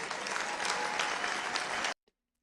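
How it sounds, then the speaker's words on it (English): A large audience bursts into sustained, dense applause that cuts off abruptly at the end, leaving near silence. "the audience just broke out into applause"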